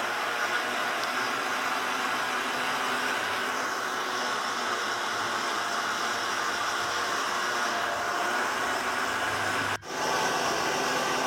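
A rice-grinding machine fitted with a finer sieve mills rice into flour on a third pass, giving a steady, loud mechanical whir and roar that drops out briefly near the end before resuming.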